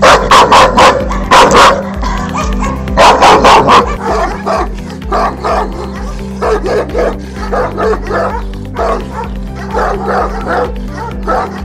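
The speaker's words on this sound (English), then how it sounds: "Powerful and loudest bark. Let's hear it first and we'll decide accordingly." Deep, powerful Central Asian Shepherd dog barks in bursts, loud and close, with a brief pause between volleys and a steady low hum underneath.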